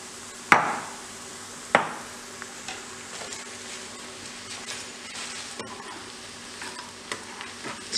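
Potatoes deep-frying in hot oil for honey chilli potatoes, a steady crackling sizzle with two sharp knocks early on and lighter clicks of utensils against the pan.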